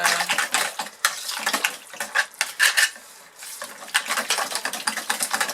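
Green goat milk soap batter being stirred in a container, producing busy wet clattering and scraping with rapid uneven strokes, close and continuous with brief pauses.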